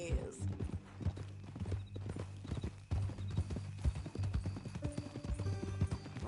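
Horse hooves clip-clop steadily and rhythmically in Red Dead Redemption, with a whinny at one point, while characters talk over the footsteps throughout.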